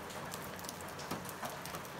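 Steady, dense patter of rain falling in Azad Kashmir, a continuous wash of drops with a few slightly louder splashes, fairly close and without voices.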